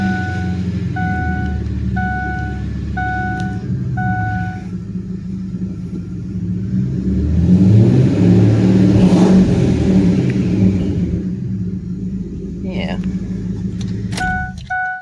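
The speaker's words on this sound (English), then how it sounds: "I guess I'll start it up for y'all, let y'all hear it." A Chevrolet pickup with a faulty alternator and a broken fuel gauge starts up and settles into a steady low engine rumble, briefly revving louder midway. Repeated electronic beeps sound near the start and again at the end.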